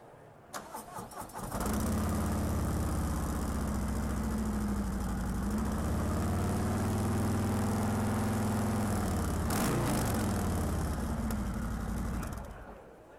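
A stock motorcycle with its stock exhaust, run indoors, cranks a few times, catches and settles into a loud steady idle with a brief rev before shutting off.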